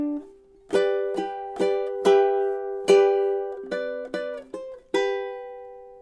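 Close, gently finger-picked ukulele playing measures 9 and 10 of a song: a steady run of about ten plucked notes and paired strings, each ringing and fading, with no voices over it.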